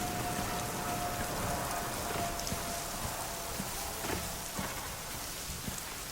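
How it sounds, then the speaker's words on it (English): Lashing rain and wind on a planet in the Star Wars Outlaws video game: a dense, steady wash of rain with scattered heavier drops and splashes, constant and fairly close. "the wet look physics and weather, wind and lashing rain on this planet"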